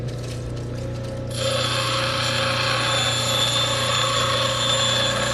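A grinding wheel shaping a large black opal stone, a steady close machine whine that sharpens and brightens as the stone meets the wheel, then holds an even, continuous grinding tone.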